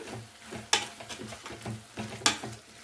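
Spoon stirring chili powder, cumin and coriander powder into a horse gram flour mixture in a pan, a series of soft scraping strokes with two sharper clinks against the pot, close and fairly quiet.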